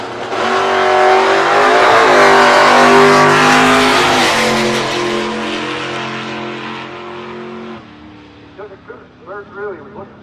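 A 1973 Plymouth Duster drag race car roars loudly down the strip, its engine climbing in pitch under hard acceleration, then fading away into the distance, followed by a few faint bursts at the end.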